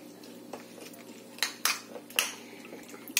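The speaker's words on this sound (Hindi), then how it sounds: "अब इसको मैं अच्छे से एक बारी मिक्स कर लूंगी कि सब कुछ अच्छे से मिक्स हो जाए" Egg muffin batter is stirred in a bowl by hand, with soft scraping and several sharp clinks of the utensil against the bowl, close up.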